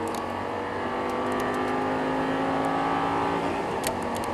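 A high-revving Audi R8 race car engine in Assetto Corsa at Paul Ricard circuit whines steadily, pitch rising and falling as it accelerates, loud and continuous with no voices.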